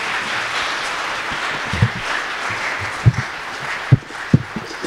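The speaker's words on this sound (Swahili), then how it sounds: "Tumpatie Yesu makofi mazuri" Congregation at a Sunday worship service clapping for Jesus, a broad wash of applause with a few sharper claps standing out near the end, moderately loud and with no talk over it.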